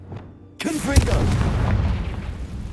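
A Confringo fire spell explodes in the game Hogwarts Legacy, a sharp booming blast that follows a short quiet lead-in and then a rumbling, crackling tail that fades slowly.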